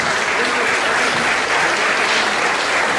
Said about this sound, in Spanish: quisiera que les dieran un fuerte aplauso